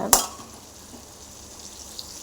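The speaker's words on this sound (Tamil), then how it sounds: "நல்லா கத்திரிக்காய் வதங்கி வரணும் நமக்கு" Eggplant masala sautéing in a pan with turmeric and salt, an opening sharp clink of a utensil, then a soft, even sizzle that carries on faintly without any talking.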